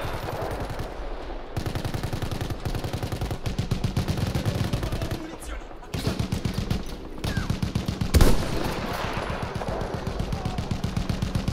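Rapid bursts of automatic gunfire and single shots in the video game Battlefield 1 rattle almost continuously, with brief pauses and one sharp louder blast near the end.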